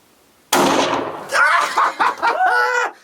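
A single sharp gunshot cracks out during a hunt, loud and close after a quiet start, and excited voices follow right after it.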